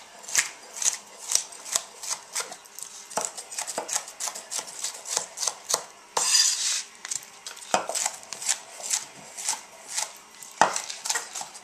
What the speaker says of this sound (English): I'm just going to chop all these little vegetables.